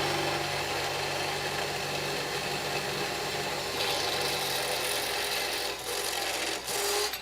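A unibit step drill grinds steadily through metal on a box being built in a home workshop, making a continuous close rasping whir with a brief dip and stutter near the end.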